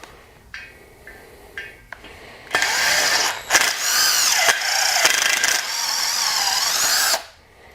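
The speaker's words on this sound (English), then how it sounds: "as you heard, I'm using an impact drill" Impact drill boring a pilot hole through a new motorcycle wheel rim, a few short taps first and then a loud, sustained whirring grind with brief stutters, stopping abruptly.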